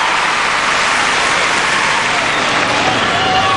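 Dense crowd noise at a women's gymnastics all-around final fills the arena: a steady, loud wash of applause and cheering with no gaps, close and continuous, no distinct voices standing out.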